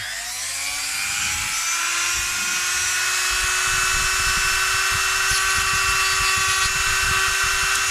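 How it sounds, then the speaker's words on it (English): Handheld rotary tool bevelling the pierced edges of a metal piece, a close, high-pitched motor whine that rises quickly at the start and then holds steady under grinding contact noise. "It's not made by Dremel, but it's a Dremel tool."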